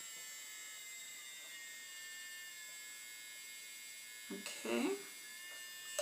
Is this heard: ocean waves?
no